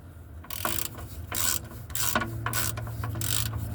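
Ratchet with a 15/16 socket loosening the oil drain plug on a John Deere 410E backhoe: several quick bursts of close, crisp clicking separated by short pauses.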